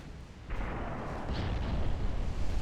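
Enemy battleships firing on cruisers in an 1893 Ottoman naval campaign game: a heavy boom bursts in after a quiet half second and swells into a sustained, rumbling roar.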